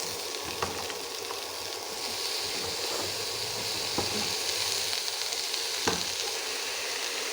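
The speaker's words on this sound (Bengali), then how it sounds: "এবার মিট কুমড়োটা একটু ভাজা ভাজা করে নেব" Sweet pumpkin sizzles in a hot pan after being added to fried rohu fish, a steady crackling fry with occasional stirring scrapes, close and moderately loud, with no talking.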